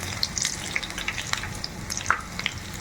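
Coriander leaf pakoras bubble and sizzle in hot oil, a steady close fry with scattered sharp crackles and pops, no one talking.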